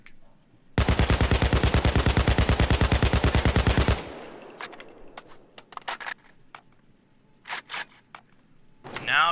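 AKM assault rifle in Payday 2 firing one sustained full-auto burst of about three seconds, loud and rapid, then a quieter stretch of handling clicks and clatter, with a few short sharp noises near the end.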